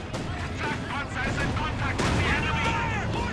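Jackson tank destroyer guns firing in the video game Company of Heroes 2, heavy booming shots layered with battle noise in continuous loud gunfire, with a commentator talking throughout.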